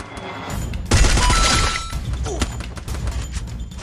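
Gunfire in the mobile shooter Free Fire, a loud burst of crackling shots and sharp impacts around one second in, followed by scattered quieter shots and game noise.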